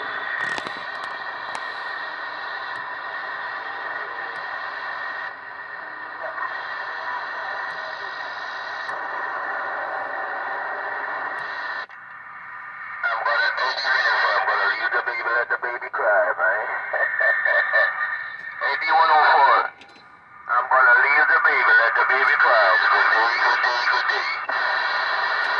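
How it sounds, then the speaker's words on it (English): A Realistic TRC-205 CB radio, running on a power supply, is tuned across the band: steady hiss and hum give way to bursts of warbling, garbled signals, with a brief dropout before the noisy reception returns, continuous and close. "So let's spin around the band and see what we can hear."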